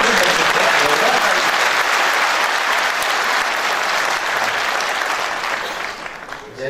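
An audience in an auditorium at a parenting talk breaks into loud, sustained applause that fills the room and fades slightly toward the end, with no voices over it.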